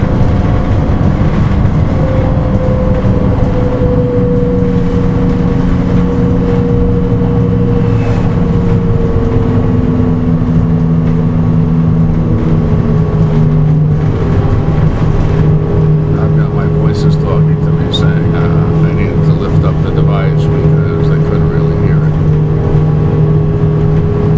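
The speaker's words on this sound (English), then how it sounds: "There's only 5 of us on the bus." From inside a moving bus, the engine hums loudly and continuously, its pitch drifting up and down as the vehicle speeds and slows, with faint background chatter and occasional rattles.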